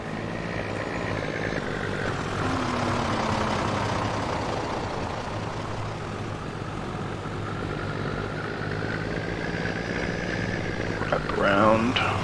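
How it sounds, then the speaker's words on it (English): A farm tractor engine runs steadily while the machine turns in a crop field, a continuous low drone with a slight rise near the end, with people talking over it. "Tractor fucking doesn't want to turn right."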